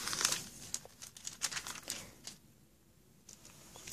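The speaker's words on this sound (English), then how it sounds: "I'm trying to take that off without ripping it." Wrapping is slowly peeled off a Thompson Chain Reference Bible, close-up crinkling and crackling in short bursts with brief quiet gaps.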